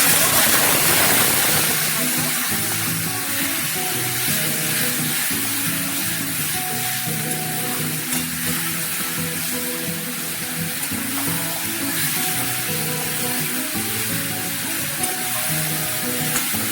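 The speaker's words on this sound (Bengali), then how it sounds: "একটু কষিয়ে নিয়েছি, আবার একটু করে জল দিয়ে আবার ভালো করে কষিয়ে নিচ্ছি।" Masala sautés with a splash of water in a pan for soya chunk kofta curry, a loud, dense, continuous sizzle and bubbling hiss with faint stirring underneath.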